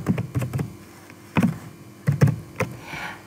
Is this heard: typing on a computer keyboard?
yes